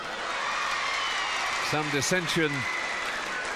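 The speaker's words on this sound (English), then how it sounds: "the cheers go up again from the French crowd" A French crowd at a women's gymnastics championship in Nantes cheers and applauds in a steady, broad roar. A commentator briefly talks over it.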